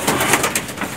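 Pigeons at a home loft where the birds fly around all day, cooing in a short, soft burst close by, with no one talking.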